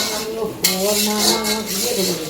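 A roast cooks in a pot with steady sizzling and frying, while a utensil clanks against the metal once sharply and then scrapes as it stirs, all close by.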